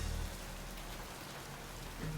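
Steady rain falling in the survival raft video game Oceaneers, a soft, even hiss of drops on surfaces, continuous and moderately quiet, with no talking.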